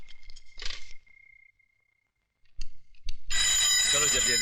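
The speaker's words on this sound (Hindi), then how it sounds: "पिताजी जरा फोन उठाइए।" A telephone rings in short electronic bursts with a brief pause, then a sustained, louder ring tone takes over near the end, with other sounds in the scene around it.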